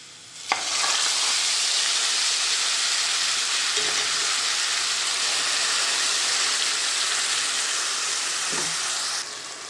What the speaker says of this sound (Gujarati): હવે નાખી દઉં મસાલો